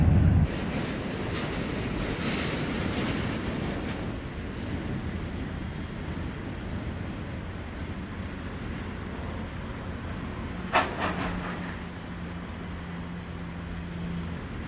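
A Pennsylvania Railroad local freight train runs steadily heading north toward Detroit, with a broad continuous rumble and rail noise throughout and a brief louder clank near the end followed by a low hum.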